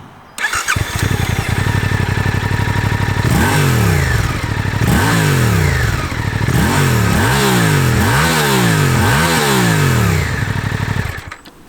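Suzuki GSX-8T motorcycle engine and exhaust, loud and close, revving repeatedly in a series of rising and falling blips over a steady idle, with some induction noise.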